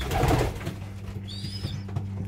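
Soft pigeon cooing in a loft, a low repeated coo under steady background hum, with a brief higher bird call partway through.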